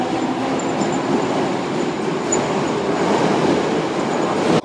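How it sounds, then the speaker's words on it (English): A train rumbles steadily at a station in Japan, a continuous, loud rolling roar with faint wheel squeal that holds throughout and then cuts off abruptly. "Currently waiting for the train back to the airport."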